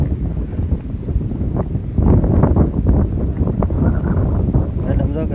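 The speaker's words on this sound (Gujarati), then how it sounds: "પવન બહુ છે" Strong wind buffets the microphone outdoors near a village temple, a loud continuous low rumble with gusty surges throughout, while people talk underneath.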